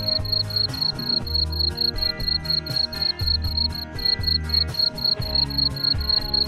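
Crickets in a breeding enclosure chirp in a fast, steady, high-pitched pulse that runs continuously, with a lower droning hum underneath throughout.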